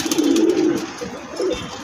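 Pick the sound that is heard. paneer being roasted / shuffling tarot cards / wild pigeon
wild pigeon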